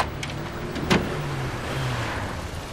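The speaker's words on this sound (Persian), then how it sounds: "یه ماشین داره میاد." A car drives up on a street at night, a steady motor hum with a brief sharp knock near the start, moderately close and alone without talk.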